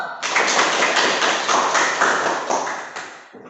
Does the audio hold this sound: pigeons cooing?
no